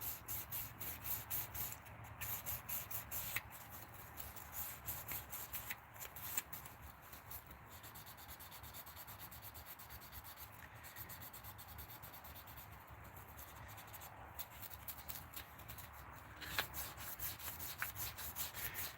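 Hand sanding a Micarta workpiece: continuous rhythmic rasping strokes, close and fairly even, repeating steadily with short pauses, no voices.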